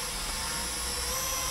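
Propellers of a small Snaptain S5C toy drone whir at a steady high pitch, a constant close buzzing drone with a bright whine and no talking over it.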